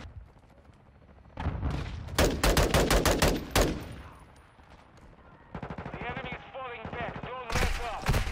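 Single-fire gunshots in the Modern Warfare II beta ring out as a rapid series of sharp, loud cracks in bursts, followed by more firing and battle noise, with a voice talking in between.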